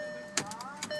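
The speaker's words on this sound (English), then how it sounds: "So, let's start this one up. It's push button start." A 2014 Audi A3 with push-button start cranks briefly, its engine catching with a short burst and a faint whine, close by and over a steady electrical hum.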